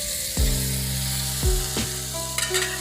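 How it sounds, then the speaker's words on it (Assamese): Broiler chicken pieces fry in oil in a pan, giving a continuous loud sizzle broken by a few sharp knocks and scrapes as the meat is moved. "এতিয়া তাত দি দিছোঁ মাংস, ব্ৰইলাৰ মাংস লৈছোঁ মই।"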